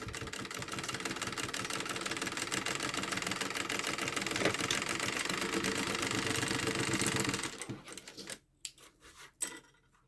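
A sewing machine stitches a seam joining fabric squares with ribbons for a baby's activity cube. It gives a steady, close whir for about seven seconds, then stops, leaving a few light clicks and knocks.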